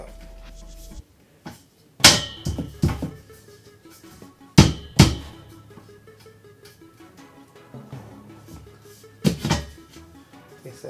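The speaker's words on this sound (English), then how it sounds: "They said hammer, so I said bam, bam." Hammering while assembling a gaming desk indoors: a few sharp, loud separate blows spaced seconds apart, with quieter knocks and handling clatter between them.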